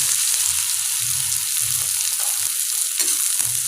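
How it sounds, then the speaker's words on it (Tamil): Onions tossed into hot oil with popped mustard seeds in a pan for a Tamil okra kara kuzhambu, hissing in a loud, steady sizzle with a few stirring scrapes, no voices. "இப்போ நாம் வெங்காயத்தை சேர்த்துடலாங்க."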